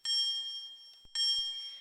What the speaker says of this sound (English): this bell also works on electromagnet